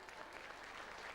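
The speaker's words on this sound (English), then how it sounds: "a round of applause" A television audience applauds in a short, faint, steady burst of clapping.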